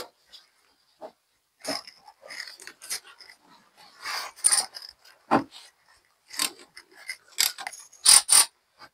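Bolts on a Ford Transit dual-rear-wheel brake caliper being loosened with a ratchet, heard as scattered short clicks, creaks and clanks of metal tools at close range, with no talking.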